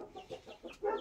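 Chickens and young chicks cluck softly in a backyard coop where hens sit on eggs, with a few short, faint calls that grow slightly louder at the end.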